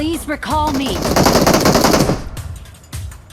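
Rapid automatic gunfire from PUBG Mobile gameplay rattles in a dense, loud burst lasting about a second and a half, with a few scattered shots after it and someone talking excitedly over the start.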